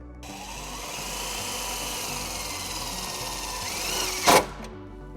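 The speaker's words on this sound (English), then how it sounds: "Now we're going to ground our white wire to this lip right here using a self-tapping screw." A self-tapping screw is driven into the metal lip of a 2018 Jeep Wrangler's body by a power driver, a steady whirring that builds and ends in a short, louder grinding burst as the screw seats.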